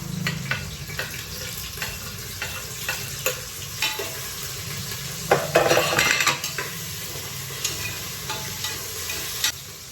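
Onion and green chilli fry in a pan at home, a steady close sizzle running throughout with scattered metallic scrapes and clinks of a spoon stirring against the pan, no talking.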